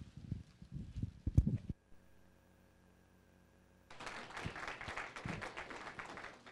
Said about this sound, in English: you're applauding before I even started